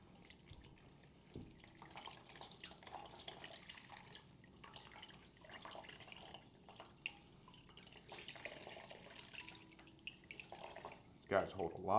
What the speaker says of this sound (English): you try to squeeze out as much water as possible